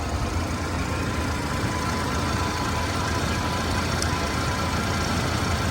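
A 1982 Chrysler Imperial with electronic fuel injection, parked since 1992, idles in a steady, even rumble recorded up close. The sound is continuous and unchanging, with no voices over it.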